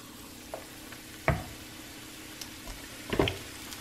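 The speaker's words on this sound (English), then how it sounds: "See it? Sizzle!" Soft, steady sizzling of pancake batter frying in hot oil in a skillet, with a couple of faint clinks and taps over the crackle.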